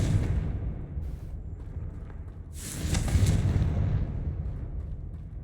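In Hogwarts Legacy, a Confringo fire spell lands with a muffled rumbling blast, a brief first burst followed by a bigger booming eruption that slowly fades, with no voices over it.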